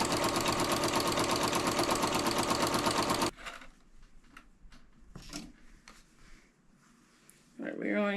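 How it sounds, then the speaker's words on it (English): A sewing machine runs a quarter-inch seam in leggings fabric for a scrunchie, giving fast, steady stitching close by for about three seconds. Quiet handling noises follow, and a short burst of stitching starts again at the end. "And let's get sewing. And I'm sewing about a 1/4 inch seam allowance."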